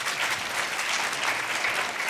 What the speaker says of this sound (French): On peut encore s'applaudir.